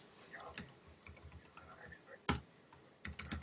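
Rapid clicking keystrokes on a computer keyboard in an uneven typing rhythm, close and fairly quiet, with a couple of sharper key strikes. Someone speaks softly over part of it.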